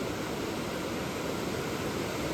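River water in Arunachal Pradesh, on the road to Mechuka, rushes in a steady, dense broadband roar that stays even and close throughout, with no voices over it.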